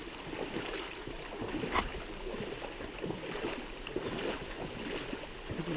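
Feet wade and slosh through shallow water off a hiking trail at Dead Horse Point State Park in Moab, Utah, with irregular splashing steps close by and no talking.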